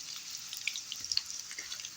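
Cheburek dough made with boiled water fries in hot oil at home, giving a faint, steady sizzle with soft crackles and small popping bubbles, with no voices.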